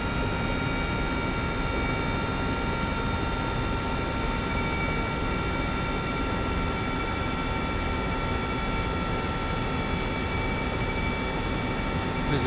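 Steady, loud rotor and turbine drone of a Mil Mi-2 Hoplite helicopter in a flight simulator game, a constant dense roar with tonal whine holding evenly throughout, with no voices.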